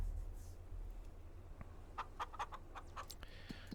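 Chickens in a large coop flock of around 500 birds in Farming Simulator 25, several short clucks in quick succession over a soft low background hum, fairly faint.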